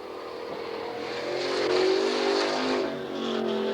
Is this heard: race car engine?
yes